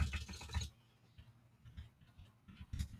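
Typing on a computer keyboard, a quick burst of loud clicks at first, then sparse, softer key taps trailing off, with a few more near the end.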